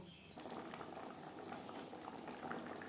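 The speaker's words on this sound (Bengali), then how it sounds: "গ্রেভি বেশ ভালো করে ফুটতে শুরু করে দিয়েছে" Rohu fish head curry gravy with potatoes bubbling steadily in a pan, a dense continuous boil that swells after a brief quieter start and stays close and even throughout.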